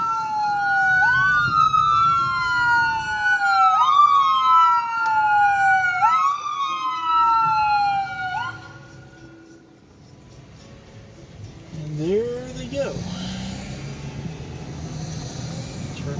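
A loud wailing ambulance siren sweeps up and down repeatedly for several seconds while passing on a road in Branson, Missouri, then fades. After a short lull a brief siren whoop sounds over road noise.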